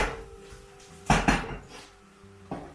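A pan is shaken while onions sauté in about 40 ml of olive oil, with two loud metallic clanks close together and a lighter knock a moment later.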